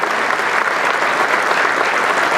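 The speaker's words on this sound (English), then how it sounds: "I'd like just a round of applause to thank our outgoing board members and to welcome our new ones" Loud, dense applause from attendees at a manufacturers' association annual meeting, a thick continuous roar of many hands clapping that holds steady through the whole short stretch.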